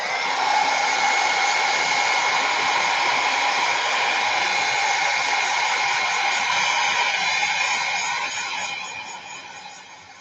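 A dryer blows steadily on a piece of assemblage artwork, a loud close whooshing hum with a faint whine that holds for several seconds, then begins to die away near the end.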